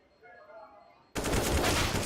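Gunfire in Counter-Strike: Global Offensive during a competitive LAN match: a quiet, faint stretch suddenly breaks into a loud, dense burst of automatic shots that keeps going to the end.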